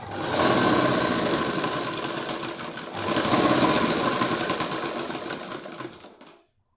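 A sewing machine runs continuously while stitching satin fabric for a frock, a loud steady whirring drone that briefly dips midway before winding down to silence.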